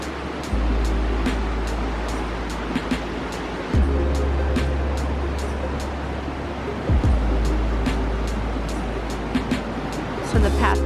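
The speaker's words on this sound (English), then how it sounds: "path goes all along this cliffside with the sound of the water below" Constant rushing water roars in the distance below a cliffside path at the Catwalk in New Mexico's Gila Mountains, a broad steady wash with occasional thumps and clicks nearby.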